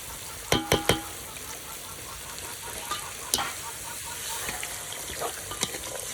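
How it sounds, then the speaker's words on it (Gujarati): Vegetable curry sizzles in a pan as water is poured in, a few sharp spits and crackles early on over a steady hiss, with light stirring clatter, close and fairly quiet. "હાલા રીંકુબેન નાખો પાણી હવે."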